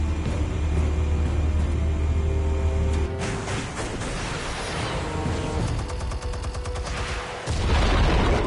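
Explosive blasts in a Batman video game, a sustained roar of rumbling detonations with a sharp burst midway and another heavy boom near the end, loud and dense with no talk.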